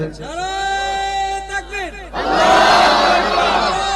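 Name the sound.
crowd shouting takbir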